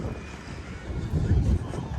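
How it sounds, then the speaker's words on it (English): Vintage World War 2 airplanes fly at an airshow weekend, a broad low engine drone and rumble swelling louder with wind buffeting the microphone. "We're gonna see a lot of planes today"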